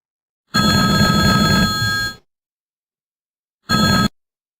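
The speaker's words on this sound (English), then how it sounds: "Let's make a phone call." An outgoing call on an office phone system rings back twice: a long electronic ring tone, a pause of about a second and a half, then a shorter ring, clear and close, with no voices.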